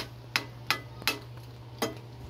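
A spoon knocks against a pot of Filipino caldereta in sauce, four sharp separate clinks spaced evenly over a low steady hum, fairly quiet and close.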